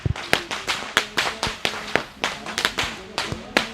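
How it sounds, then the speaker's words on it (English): Whips crack in sharp, rapid, irregular volleys at the Kandy Esala Perahera procession in Sri Lanka, loud and close, with a steady crowd murmur beneath. "Walking up front with the sound of whips piercing through the skies are the whip crackers."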